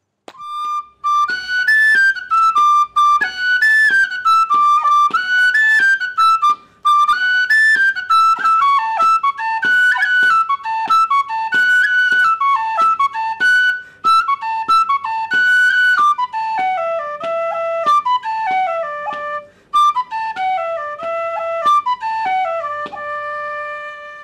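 A solo tin whistle plays a lively traditional tune of quick ornamented notes, clear and close, lasting throughout with no voices.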